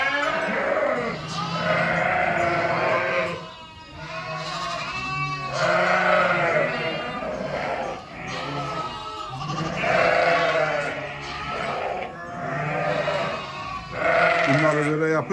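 A flock of sheep bleating continuously, many overlapping calls of lambs and ewes, loud and near, layered over one another without pause.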